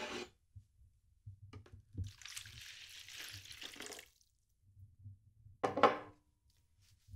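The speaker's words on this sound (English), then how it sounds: "He got a bowl and put water in it." Water is poured into a bowl, with a sustained splashing pour lasting about two seconds, followed by a brief second splash, quiet and close, with no talking.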